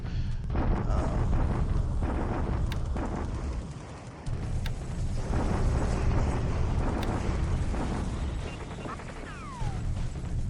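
Artillery bombardment in the War in the Pacific strategy game, set in December 1943: continuous low rumbling of distant shell bursts and booms, steady and moderately loud, with faint sharp cracks scattered through.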